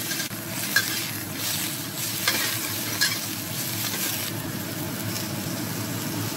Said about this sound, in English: give your prawns a good sear, and then give it a quick stir fry for about 30 to 45 seconds